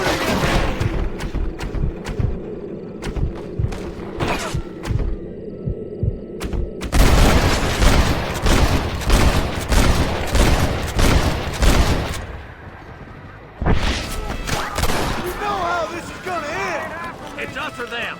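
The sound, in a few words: gunfire in Red Dead Redemption video game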